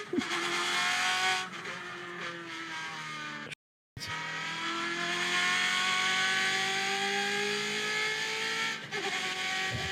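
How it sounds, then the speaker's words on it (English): Subaru rally car fitted with a Ferrari engine, driven hard and loud close by, revving with engine pitch climbing through the gears, cut by a brief silent gap before roaring on again. "This is a Subaru rally car, and it has a Ferrari engine in it."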